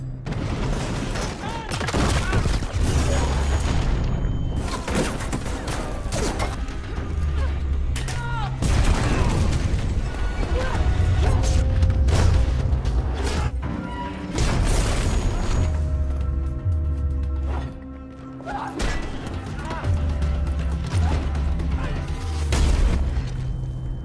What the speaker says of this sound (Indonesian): F masuk ke gudang untuk mengambil beberapa bom dan meledakkan para anggota sekte